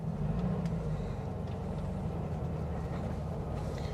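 A 1963 VW Beetle with a 1200cc air-cooled engine drives along, its low, steady engine drone and road rumble heard from inside the car, fairly quiet and continuous with no talk.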